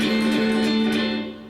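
A blues-rock guitar lick is played without muting the strings, so the notes ring together in a sustained, buzzy wash that fades toward the end of a brief, close phrase.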